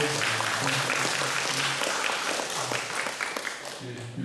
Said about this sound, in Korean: 우리 박수로 또 이렇게 인사하겠습니다